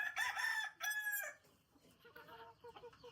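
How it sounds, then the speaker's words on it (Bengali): Chickens on a small farm with newly hatched chicks call out loudly, a rooster-like crow rising twice in quick succession and then trailing into softer clucking nearby. "আর মুরগ প্রচুর ডাকাডাকি করে এত পরিমাণ ডাকাডাকি করে"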